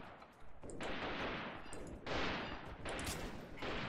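Bursts of dense, crackling gunfire in the tactical shooter Freeman: Guerrilla Warfare, with loud volleys of sustained automatic fire and brief lulls between them, no talking.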